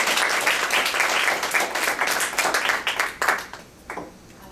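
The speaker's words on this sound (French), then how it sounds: "Et vous pouvez l'applaudir." Audience applause at an award ceremony for a healthcare professional, a full burst of clapping that thins into scattered claps and fades toward the end.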